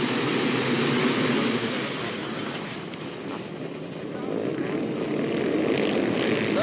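A pack of 500cc motocross bikes roars off the start gate at a 1995 Swiss Grand Prix, a dense, continuous engine drone that swells and stays loud, with a commentator's voice faintly underneath.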